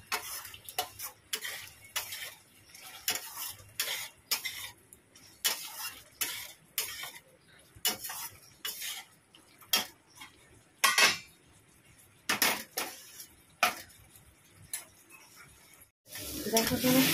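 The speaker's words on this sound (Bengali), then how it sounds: "আর একটু মাখা মাখা করি, পটল সেদ্ধ হয়ে গেছে।" Boiled pointed gourd is mashed and stirred in a pan, giving repeated scraping and tapping strokes in an irregular rhythm, close and moderately loud, with a burst of louder noise at the very end.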